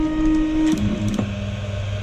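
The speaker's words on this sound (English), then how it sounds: "As you can see, the printer is homing." A Tronxy X1 3D printer homing its axes: a steady whining stepper-motor tone that shifts pitch and drops lower as the axes move, with a faint click, close up and alone.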